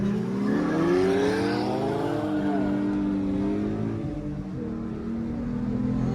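Cars launching side by side in a street roll race at a Friday night car meet, engines roaring and climbing through rising revs, loud and continuous with a brief shift dip as they pull away.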